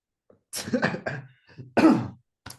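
Several harsh coughs in quick bursts, close and loud, separated by short silences, with a final brief cough at the end.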